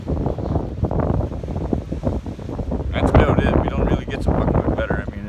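Strong south wind blows by the Atlantic, buffeting the microphone in a loud, rough, continuous roar that swells and gusts, with a person talking through it.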